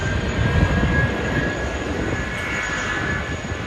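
Malaysia Airlines Airbus A330-300 at Sydney Airport, a continuous loud jet engine roar holding steady and close throughout, with no talking.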